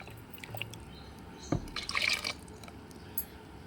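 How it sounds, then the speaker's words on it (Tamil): Buttermilk is poured into a container to rinse it, a short liquid splash and trickle about two seconds in, faint and close, with a few soft drips and handling sounds around it. "இதோட கூட கொஞ்சம் மோரை ஊற்றி கழுவி ஊற்றிக்கலாம்."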